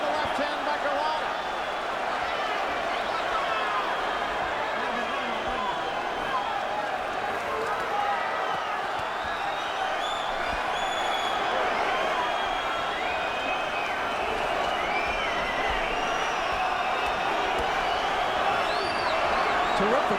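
Boxing arena crowd at the Chris Byrd vs Andrew Golota heavyweight fight, a steady loud roar of cheering and shouting that fills the whole stretch with no letup.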